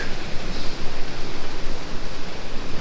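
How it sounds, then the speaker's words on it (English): Water pours over a dilapidated weir on the Meuse, a steady, full-bodied rushing roar that stays constant and close throughout. "This is one of the weirs on the Meuse."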